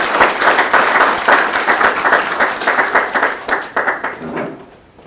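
An audience at a morning youth philanthropy event gives a round of applause, with loud, dense clapping throughout that tapers off near the end.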